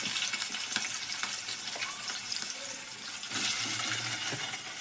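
Bitter gourd pieces frying in oil for a curry, a steady broadband sizzle running the whole time with occasional stirring scrapes and light clatter, close and moderately loud with no talking.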